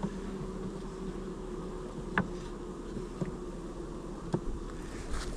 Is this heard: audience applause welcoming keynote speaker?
no